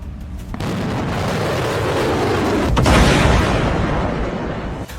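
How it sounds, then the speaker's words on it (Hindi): Loud, dense rumbling blasts of missile and rocket explosions in a Middle East war zone, sustained with a sharper burst near the middle, no talk over them. "धमाके दर धमाके, मिसाइलों के, रॉकेट के"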